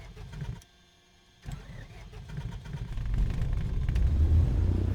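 Light aircraft piston engine in Microsoft Flight Simulator 2020 cranks after a brief silence, then catches and builds into a steady, rising low rumble that grows louder toward the end, alone without talk.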